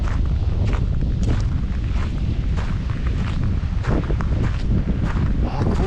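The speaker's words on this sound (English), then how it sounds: "Ooh, it's windy up here." Strong wind buffets the microphone on a high, exposed spot in Mark Twain National Forest in spring, a loud, steady low roar with gusty surges throughout.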